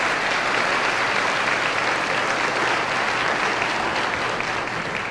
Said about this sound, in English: they deserve a round of applause for just being here